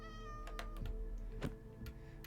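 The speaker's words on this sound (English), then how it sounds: "We hear you, kitty cat." A cat meows in the Minecraft video game, a few short calls spread across a steady game soundtrack with a soft musical drone underneath, fairly quiet and without talk.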